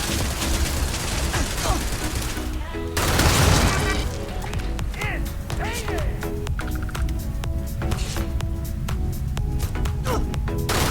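In Starfield, the Maelstrom gun is hip-fired in sharp, repeated bursts with booming impacts mixed in. Someone speaks over the shooting through most of the stretch.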